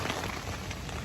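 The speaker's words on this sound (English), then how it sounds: "And we are now raining." Rain falls on a tent during a storm in middle Tennessee, a dense, even hiss of drops drumming steadily on the fabric for a moment.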